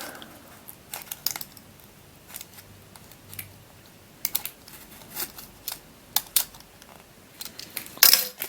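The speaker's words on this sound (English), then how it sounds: "So I'm just prising up the ends of these staples there" Metal staples on card packaging are prised up with small sharp clicks, scrapes and ticks, scattered and close, one louder snap near the end, no speech.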